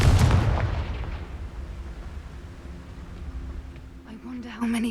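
A booming blast rings out in a video game as the Confringo spell is cast, with one heavy burst at the start that fades into a rumbling tail while a voice speaks over it.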